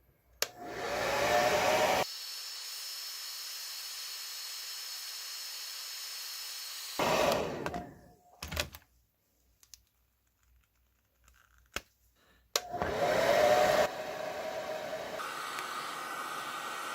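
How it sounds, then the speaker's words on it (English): Blow dryer heating a G.I. Joe Classified Sgt Slaughter action figure for disassembly: close, steady whooshing bursts start and stop three times, with quiet pauses and light handling clicks between. "I'm going to use a blow dryer method."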